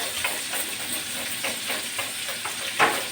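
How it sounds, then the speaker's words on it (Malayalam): Fish fries in a pan with a continuous close sizzle, soft spatters and a few stirring or turning scrapes, with one sharper spit near the end. "നമ്മുടെ മീൻ രണ്ട് വശവും മൂപ്പിച്ചു"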